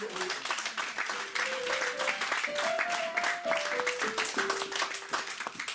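A church congregation applauds continuously, dense clapping mixed with voices and a sung or chanted melody rising and falling over it.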